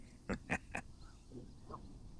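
Ducks on a small park pond give a few faint, distant quacks, two or three close together, then softer calls in quiet outdoor air.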